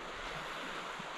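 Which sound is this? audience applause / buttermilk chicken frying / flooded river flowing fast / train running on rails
flooded river flowing fast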